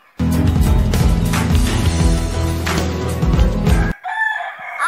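A backyard rooster crows loudly and close, one long sustained call that stops abruptly, followed by quieter, fainter bird chatter.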